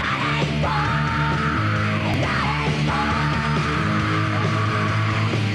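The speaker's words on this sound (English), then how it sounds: "With grinding guitars and theatrical vocals ranging from a vaguely Middle Eastern sounding melody in the opening to an unholy shriek in the chorus." Loud rock song with grinding guitars and theatrical shrieked vocals, playing continuously and densely throughout.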